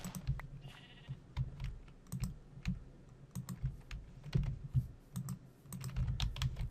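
Sheep bleating in a modded Minecraft world, a few short game bleats mixed with steady clicking and keyboard tapping, all fairly faint with no talking.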